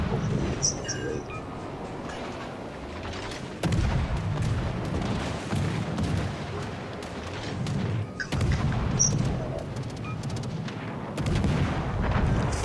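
Heavy naval guns booming in World of Warships: Legends, a dense, sustained roar of repeated blasts over engine rumble, with strong surges around mid-clip, while players talk over the battle.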